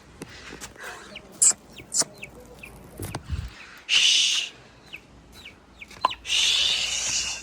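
A young hen clucking among a small flock of chickens and chicks in a backyard pen, giving short intermittent clucks and calls with a few sharper bursts of nearby noise in between.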